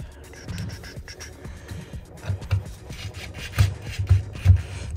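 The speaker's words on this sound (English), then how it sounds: "So now I'm gonna screw this in here." Metal screw being driven into a fitting on an unvented hot water cylinder, giving a run of scraping, rubbing turns with a few louder grinding bursts near the end, close and alone.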